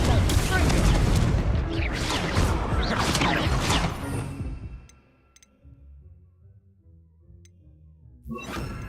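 Confringo fire spell explosions in the video game Hogwarts Legacy: a rapid string of loud, crackling blasts and crashes for several seconds, then fading to near quiet before one more burst at the end; a voice talks over the blasts.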